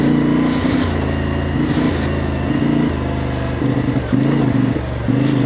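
Motorcycle engine running loud and close while riding, with rhythmic stepped changes in engine pitch as the rider shifts and throttles, steady and continuous throughout without talk.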